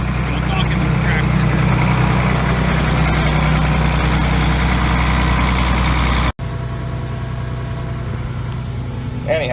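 A big farm tractor runs loud and close with a steady heavy engine drone, then the sound cuts out abruptly for an instant before the same dense rumble resumes.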